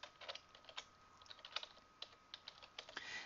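Keys tapped on a computer keyboard in a quiet office setting, a quick irregular run of light clicks and clacks entering a company name, close and clear with no talk.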